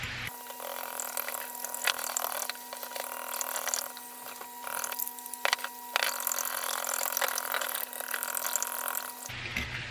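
French toast batter is whisked briskly in a bowl, giving a continuous rapid clicking and rattling, close up and steady, with a faint electrical hum underneath.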